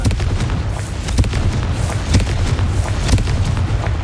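Repeated Confringo blasting-spell explosions in the Hogwarts Legacy video game, a run of booming bursts over dense continuous game noise, several sharp hits spread across the span.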